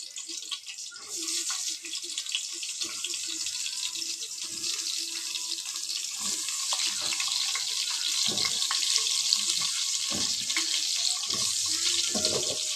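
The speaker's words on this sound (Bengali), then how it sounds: "পটলগুলোকে একটু বেশ লাল লাল করে আমি ভেজে আমি তুলে নেবো" Pointed gourds (potol) coated in salt and turmeric sizzle in hot oil, a loud steady hiss of frying that runs throughout, broken by occasional clinks and stirring knocks.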